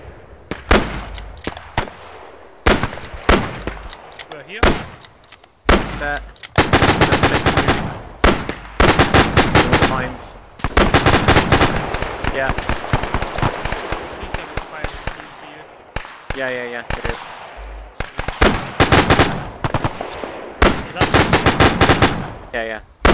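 Bursts of machine gun fire from a multiplayer war game on an airfield map crack out in repeated rapid volleys, loud and close, with players talking over a headset between and during the shooting.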